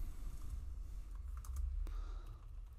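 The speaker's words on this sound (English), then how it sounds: "we type the SQL command insert into user values" Quiet, close typing on a computer keyboard, a quick run of light key clicks with a few sharper taps, heard alone against a low background hum.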